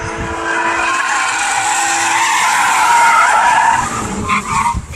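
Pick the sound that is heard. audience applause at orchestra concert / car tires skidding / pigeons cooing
car tires skidding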